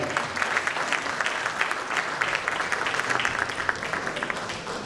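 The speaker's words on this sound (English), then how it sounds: "A big applause for this wonderful panel" An audience at a panel discussion on brands and the stock market breaks into dense, steady applause that fills the room, sustained without pause and no talk over it.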